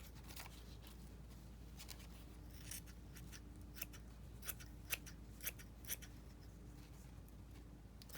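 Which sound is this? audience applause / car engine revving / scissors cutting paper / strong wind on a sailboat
scissors cutting paper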